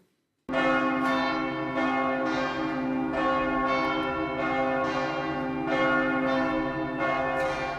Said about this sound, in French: À 16 heures pile, le tocsin retentit dans de très nombreuses villes de France